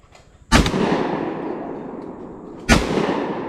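A Mossberg JM Pro 930 semi-automatic shotgun fires twice at clay targets outdoors, two loud sharp blasts about two seconds apart, each followed by a long rolling echo.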